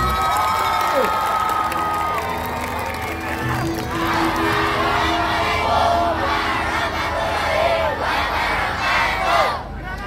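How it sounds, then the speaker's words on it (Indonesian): At a night takbir carnival in Warungboto, a large outdoor crowd applauds and cheers in a sustained roar, with shouts and whistles rising through it and voices mixed in. "Tepuk tangan sekali lagi."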